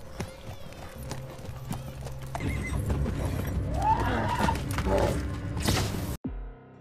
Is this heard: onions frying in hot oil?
no